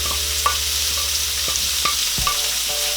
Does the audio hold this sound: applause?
no